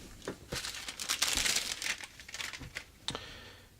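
A store-bought pastry package is cut open up close, with bursts of plastic crinkling and tearing followed by a few quieter rustles.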